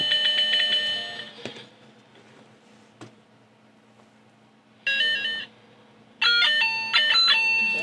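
A broken toy piano rings out bright, bell-like electronic notes in short bursts, first a cluster, then isolated taps, then two brief sequences of chiming tones, with quiet gaps between.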